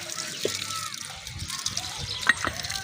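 Water is sprayed in a fine, cool mist during house work, a steady hiss with sloshing and trickling underneath, heard close while people talk over it.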